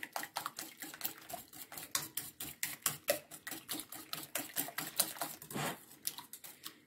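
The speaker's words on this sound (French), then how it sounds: "je vais venir mélanger d'abord ces 3 petits ingrédients" Whisk or spoon clicking rhythmically against a bowl while eggs and vanilla are mixed for a flan, a steady run of quick, close tapping strokes with a brief scrape partway through.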